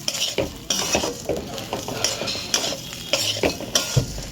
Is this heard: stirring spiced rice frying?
yes